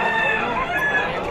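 A Boston-blood rooster, over two years old, crows at a Malabon pet market, its call loud and close against a steady market hum.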